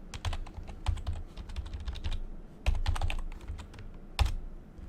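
Close, brisk typing of code on a computer keyboard, with irregular clusters of key clicks and heavier thumps of the space or enter key, without any talking.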